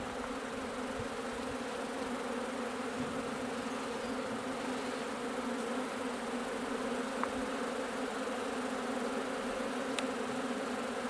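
Many bees swarm inside a wall, a dense, continuous hum and buzz filling the space at moderate level, with occasional individual bees passing closer.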